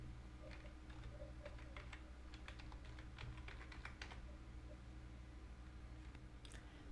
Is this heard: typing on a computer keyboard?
yes